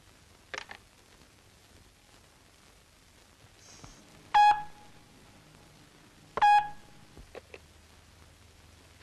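Telephone being dialed indoors in a Malayalam drama scene: two loud, sharp ringing beeps about two seconds apart, with faint clicks and keypress tones in between, and nobody speaking.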